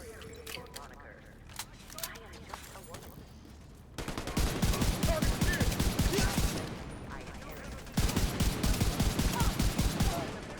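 Rapid automatic weapon fire in a first-person shooter game, loud bursts of closely spaced shots in two long volleys, with softer background sounds and talking before the shooting starts.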